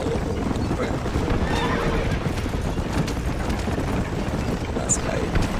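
A horse in the Red Dead Redemption video game neighs and its hooves clop close by, over a steady wash of background noise and game sound, with a voice talking at times.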